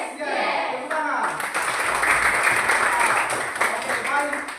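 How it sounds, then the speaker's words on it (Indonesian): A classroom group of students claps in a short burst of applause, moderately loud, with some voices mixed in. "Tepuk tangan."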